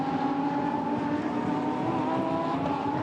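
Lamborghini Super Trofeo race cars at the Nürburgring, a sustained roaring engine drone with a steady whine, heard from a distance under a continuous wash of noise.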